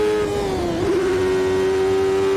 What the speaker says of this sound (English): The little flutter on the engine note as you change gear.